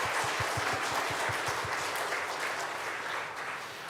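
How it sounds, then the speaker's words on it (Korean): A church congregation at a Sunday evening worship service breaks into warm applause, a dense wash of many hands clapping that fills the room, with a few rhythmic claps standing out before it slowly tapers. "하나님께 영광의 박수 한번 올려드리도록 하겠습니다"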